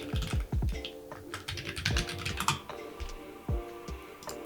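Computer keyboard typing: a quiet run of quick key clicks in uneven bursts, with brief pauses between words, close and alone without talk.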